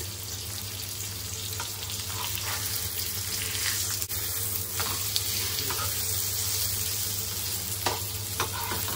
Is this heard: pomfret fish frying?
yes